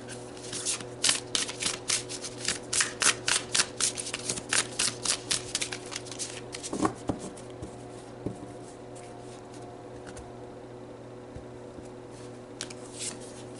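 Tarot cards are shuffled in a quick run of crisp, rhythmic riffling strokes, close and fairly quiet, then a few soft card taps and handling sounds in near silence.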